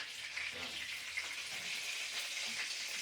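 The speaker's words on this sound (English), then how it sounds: "The sound of fried food." Steady crackling sizzle of cutlets frying in hot oil, constant hiss with scattered pops, fairly quiet and close.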